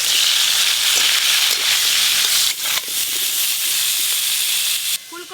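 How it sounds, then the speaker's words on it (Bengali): Cauliflower frying in mustard oil, a loud, close, bright hiss of hot oil that dips briefly midway and drops away sharply near the end. "সরষের তেল, মাছের ঝোলের জন্য এখন ফুলকপিগুলো ভালো করে ভেজে নেব।"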